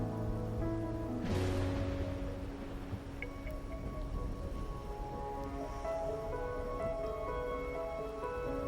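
Steady rain in the video game Wuthering Waves patters and drips across the surface, a soft continuous wash with a brief louder swell near the start.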